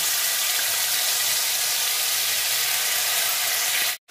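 A paste of ginger, cumin and green chilli frying in hot oil gives a loud, steady, close sizzle and hiss that runs unbroken until it cuts off abruptly at the end, with no talking.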